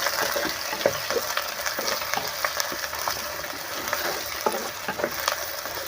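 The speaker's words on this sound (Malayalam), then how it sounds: "ഇനി നമുക്ക് അരിഞ്ഞു വെച്ചിരിക്കുന്ന ഇഞ്ചി പച്ചമുളക് വഴപ്പില ചുവന്നുള്ളി പുതിനയില മല്ലിയില ഇവ ചേർത്ത് നമുക്കൊന്ന് വഴറ്റിയെടുക്കാം" Chopped ginger, green chili, curry leaves, shallots, mint and coriander sautéing in a pan, a steady close sizzle with scattered stirring scrapes and spatters throughout, no voices.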